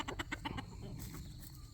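A rooster gives a quick series of about five rhythmic clucks close by, then falls silent under steady background noise.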